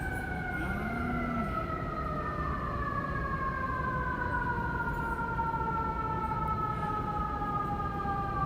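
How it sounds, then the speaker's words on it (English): An emergency vehicle siren sweeps past, its wailing tones gliding slowly downward as it moves away, steady and fairly loud across the whole stretch with no talk over it. "We'll wait for that siren to go by."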